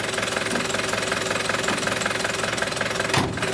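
A Ford Transit 2.5 Di diesel engine, known as the banana engine, runs steadily with a rough, knocking clatter and a rattling vibration, close by and uninterrupted.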